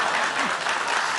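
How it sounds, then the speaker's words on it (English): A quiz-show studio audience claps in a short burst of applause, a dense even patter of many hands, close and steady with no break. "I thought that was worth a round of applause"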